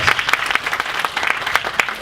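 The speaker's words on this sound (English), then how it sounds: "We can give them a round of applause." Keynote symposium audience gives a round of applause: a continuous wash of many hands with individual sharper claps poking through at moderate volume.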